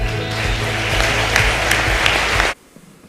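A crowd at a city council chamber honor ceremony applauds in a full, steady burst that cuts off abruptly near the end, leaving a quiet room.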